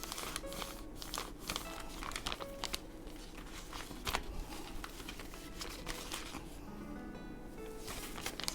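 Paper bag crinkles and rustles as it is folded into a pocket for a handmade junk journal cover, soft crumpling and creasing sounds close up, continuing with small taps and shuffles.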